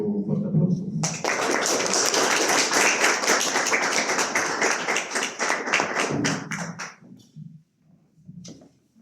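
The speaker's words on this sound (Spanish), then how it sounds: "a quien pido un fuerte aplauso." Loud audience applause at a book launch, a dense burst of many hands clapping that swells in near the start, holds steady for several seconds, then thins into scattered claps and fades out.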